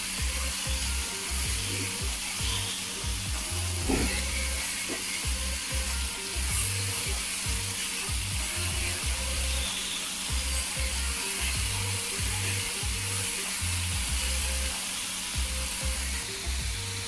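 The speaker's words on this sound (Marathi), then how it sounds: "दोन मिनिटं भाज्या भाजून घेऊ।" Carrots, peas and onion fry in a pan with a constant, close sizzle, broken by rhythmic scraping and stirring of a spatula, with no talking.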